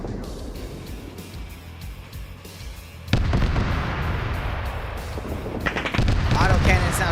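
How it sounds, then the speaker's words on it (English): Autocannon fire strafing infantry in the Command & Conquer: Red Alert 2 real-time strategy game: rapid bursts of gunfire and explosions over music, growing louder and denser partway through, with a voice speaking over it. "Autocannons now strafing the infantry up here."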